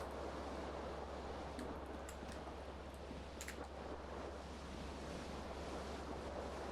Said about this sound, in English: A cool wind gushes in.